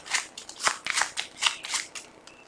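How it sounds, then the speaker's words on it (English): Yu-Gi-Oh trading cards from a Dark World structure deck shuffled by hand, a close series of crisp riffling and sliding bursts in an irregular rhythm, with no talking. "Shuffle them around."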